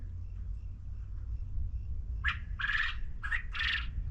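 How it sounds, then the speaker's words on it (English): Quail calling in the open outdoors near a catfishing spot, a few short bright squawking calls, fairly faint and distant over a steady low rumble of background noise. "Hear that quail? That's the noise they make."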